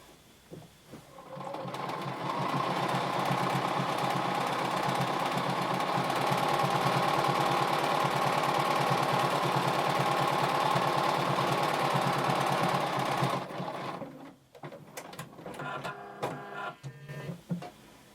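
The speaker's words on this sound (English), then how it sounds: "we're going to sew together the short end" A sewing machine stitches the short end of a turtleneck in one long, even, rapid run of needle chatter lasting about twelve seconds, then stops and gives way to a few handling rustles.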